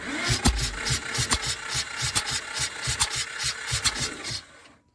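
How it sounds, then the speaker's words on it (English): A project car's engine turning over on a new starter motor, a close, rhythmic cranking chug with regular compression pulses that keeps going without catching, then cuts off abruptly. "Let's just give this a crank and see what we get"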